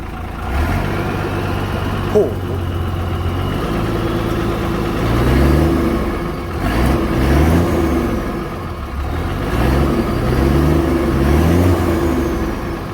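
A Hino Dominator FC9J ten-wheeler truck with a Victor J08E diesel engine and dry-brake conversion revs repeatedly. Its deep idle rises and falls in several close, loud surges, with no speech over it.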